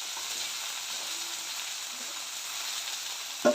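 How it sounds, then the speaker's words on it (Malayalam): Ivy gourd (kovakka) pieces frying in a pan for a tangy pickle give off a steady, even sizzle, close and moderately loud, that holds without pause, with a single brief clink near the end. "പിന്നെ നന്നായിട്ടൊന്ന് ഫ്രൈ ആയി വരട്ടെ"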